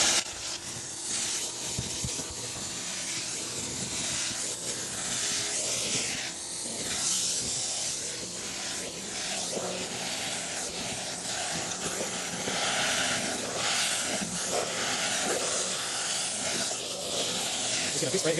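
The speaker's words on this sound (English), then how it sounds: "vacuum this up first here." A carpet cleaner's vacuum wand sucks water out of a dirty couch, a loud, steady hissing rush that continues close by throughout with slight surges, and a voice can be heard faintly beneath it.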